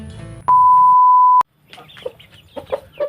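A Janggaran chicken makes a few short, close clucking sounds after a loud, steady electronic beep.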